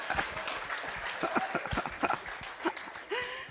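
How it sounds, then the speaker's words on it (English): Church congregation applauding at the close of a sermon, a dense patter of clapping with scattered voices and a whistle-like tone riding over it, steady and fairly loud throughout. "So you're applauding me off the stage."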